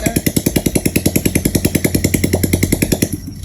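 A Honda Wave 125 with a kick-start conversion and no exhaust pipe fitted runs close by, thumping in a rapid, even pulse, then cuts out abruptly after about three seconds.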